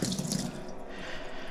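Water poured from a container at close range, a short splashing burst that fades into a quieter trickle.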